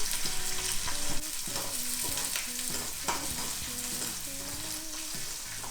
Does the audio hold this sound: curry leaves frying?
yes